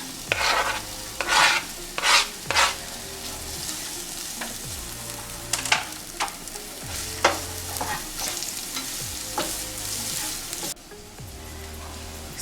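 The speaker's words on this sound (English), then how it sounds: "I'm going to fry my onion" Onion and garlic frying in a hot pan for a plantain and egg frittata, a steady sizzle broken by repeated scraping stir strokes and utensil clatter, close and moderately loud, with no talking.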